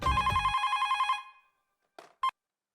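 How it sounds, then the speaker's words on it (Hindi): An electronic telephone bell rings in a rapid trilling burst for about a second, then stops, followed by two brief clicks of the handset. "अब मैं भी सारिस मामा का फोन लगाता हूँ।"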